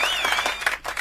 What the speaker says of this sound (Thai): ปรบมือต้อนรับค่ะ